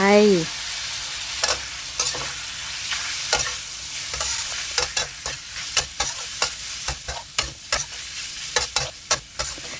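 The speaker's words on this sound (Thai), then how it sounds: "เราก็ใส่ลูกชิ้นลงไป" Meatballs go into a hot pan for a holy basil stir-fry with bamboo shoots and sizzle loudly. Repeated sharp scraping strokes of stirring come at an uneven, quickening pace, close and prominent.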